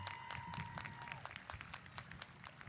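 Commencement audience applause at a high school graduation, a scattered crowd clapping with sharp individual claps over a low murmur of voices.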